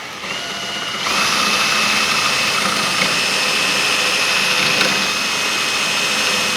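A power drill with a bigger bit enlarging a hole in an OMP Hobby Bushmaster 65-inch RC boat hull, a loud high whine that spins up after a second and holds steady and close to the end.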